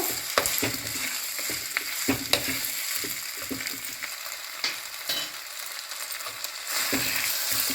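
Potatoes sautéing in a pan with turmeric and salt, a constant crackling sizzle layered with repeated spatula scrapes and stirring clatter, loud and close, without speech.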